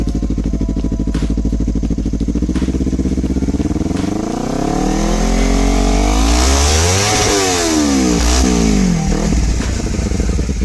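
A Kawasaki Ninja Z250 with a Yoshimura exhaust idles loudly up close, then revs repeatedly, pitch climbing and falling in several swells before dropping back toward idle.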